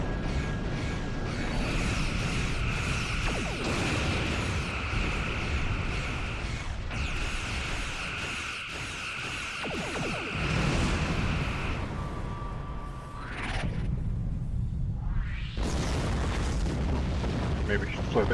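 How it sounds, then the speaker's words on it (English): A deep, booming explosion in a space combat video game, with a broad rumbling roar lasting several seconds and shifting in intensity, close and loud, with a voice talking over it. "Maybe we should fly a bit too close to that explosion."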